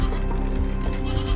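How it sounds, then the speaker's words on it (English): A goat bleats once up close, a loud wavering cry lasting over a second with no talking. "Is that the sacrificial goat?"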